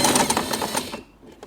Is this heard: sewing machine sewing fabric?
yes